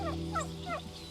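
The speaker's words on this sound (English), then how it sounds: "people think they're like domestic or wild turkeys because they look like it, but they're really actually they're domestic" Domestic turkeys on a farm gobbling in quick repeated rattling bursts, three or four calls over a steady low background hum, fairly close.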